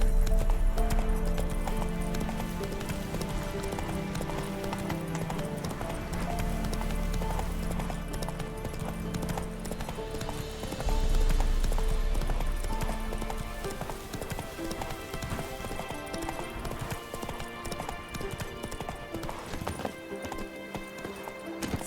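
Horse hooves gallop in a steady, driving clip-clop rhythm through The Witcher 3, loud and continuous over game music and ambience, with a brief whinny surfacing.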